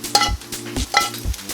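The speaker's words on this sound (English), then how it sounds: "Onions look amazing, so I'm going to go ahead and add the broccoli." Broccoli tipped into a pan of frying onions, giving a few rhythmic stirring scrapes and thuds over a light sizzle, close up and without talk.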